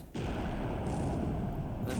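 A dense burst of rumbling explosions from a naval hit in War in the Pacific starts abruptly and roars steadily for about two seconds.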